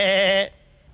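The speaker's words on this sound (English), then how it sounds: "A nanny goat." A nanny goat bleats once, a loud, wavering, close-up cry that lasts about half a second, followed by quiet.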